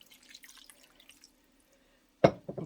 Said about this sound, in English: then you add 1 cup of water